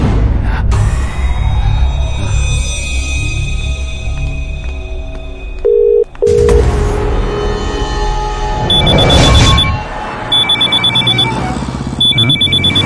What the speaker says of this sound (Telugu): కొత్త ఫోన్కి ఫస్ట్ కాల్ రా